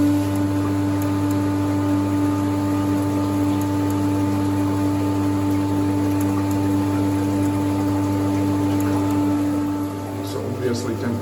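Winterhalter GS502 dishwasher pump humming steadily with strong tonal drone while water runs into the boiler, constant and close for about ten seconds before easing slightly.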